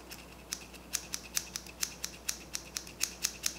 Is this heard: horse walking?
no